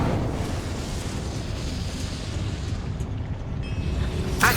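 The Incendio fire spell cast in the Hogwarts Legacy video game, a continuous rumbling, roaring burst of fire sustained at steady loudness, with a brief bright crackle at the very end.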